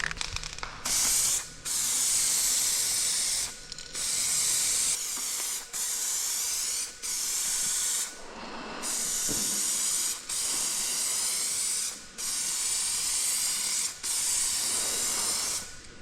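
A paint spray gun coats a new bumper cover for a 2005 GMC Sierra in a series of loud, close hissing bursts, each lasting one to two seconds and separated by brief pauses.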